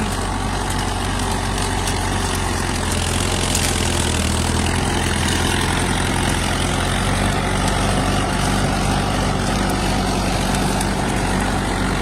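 A small tractor pulls a 12-foot rotavator across a farm field, its engine droning loud and steady throughout with constant mechanical rumble.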